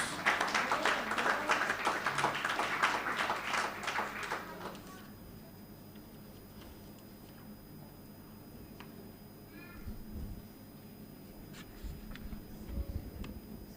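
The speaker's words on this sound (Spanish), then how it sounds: "Un aplauso para ella, hermanos." A church congregation claps for a new member at a service in Bonaire, several seconds of lively applause that stops abruptly, followed by a quiet room with faint scattered sounds.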